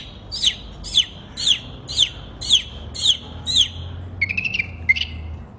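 A person whistles an imitation of a baby chick with no object in the mouth, giving seven evenly spaced, high, descending peeps followed by a quicker flurry of shorter chirps. The whistling is close and clear against a quiet room.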